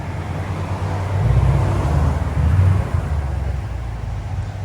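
A 2014 Ford Mustang GT with a 5.0L V8 and Valvetronics cutout mufflers rumbles loudly, its deep exhaust swelling twice in brief revs over a steady idle, with no voices.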